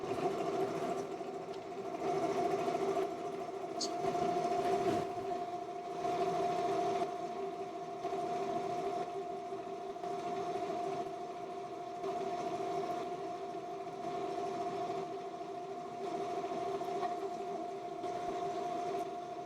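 A lathe turns a dump trailer jack knob at a higher feed, giving a steady tonal whine with a low droning hum that pulses slightly in level, unbroken and fairly close.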